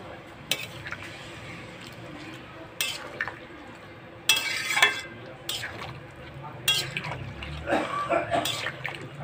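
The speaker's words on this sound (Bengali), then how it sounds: "এটা কষানো হয়ে গেছে, এবার দিয়ে দিব গরম জল।" Hot water is poured into a pan of fried spice paste in a home kitchen, with sharp clatters of utensil on the pan, splashing and sizzling bursts, and a voice talking quietly between the sounds.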